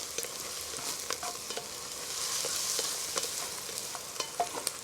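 Garlic sautés in a pan for brisket chili, a soft steady sizzle with light scraping and clicking of a utensil stirring through it, fairly quiet and with no talking.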